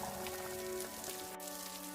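Rain falls in a cartoon story, heard as a steady, dense patter across the whole short stretch with a faint tonal hum underneath.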